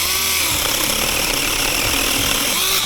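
A small battery mini chainsaw cuts through a branch roughly two inches thick, its high buzzing whine steady and loud for the whole few seconds with no talking.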